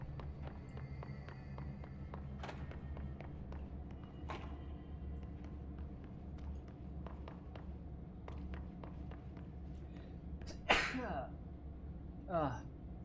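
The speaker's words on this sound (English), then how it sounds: "Sorry about the sneeze." A single sharp sneeze bursts out near the end over quiet game background sounds and a low hum, followed shortly by a smaller breathy gasp.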